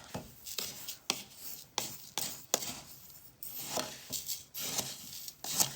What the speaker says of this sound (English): Okay, so I'm going to stir this up really good.